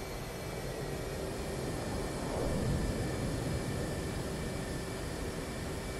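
A military jet in a video game rolls for takeoff with a steady, loud roar and broad hiss, the engine noise swelling slightly midway.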